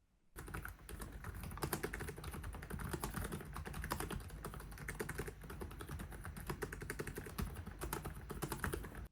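Rapid, steady clicking of keys as someone types continuously on an LG Gram Style 16 laptop keyboard, close up, with no voices.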